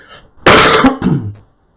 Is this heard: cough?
yes